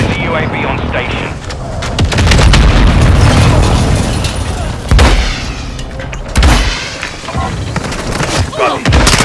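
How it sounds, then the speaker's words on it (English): Heavy, continuous booming from an airstrike in Call of Duty: Modern Warfare II, with a dense rumbling barrage and several sharp explosive hits standing out near the middle and end. Voices can be heard through the noise. "Hostile airstrike incoming."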